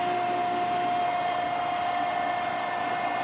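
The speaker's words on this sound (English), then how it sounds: "Turn the grinder on." An Okamoto surface grinder runs at full power with its hydraulics on, giving a steady, loud mechanical whine and hum that holds unchanged throughout, with no talking.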